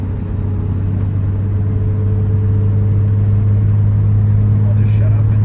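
A 1969 Jaguar XKE Series II drives along with a steady, low engine drone and road rumble from inside the cabin, continuous and even, with no talk over it.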